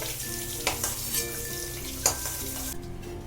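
Eggs frying in hot oil in a pan for an egg curry, a steady close sizzle with a couple of sharper spatters and stirring scrapes, cutting off abruptly near the end.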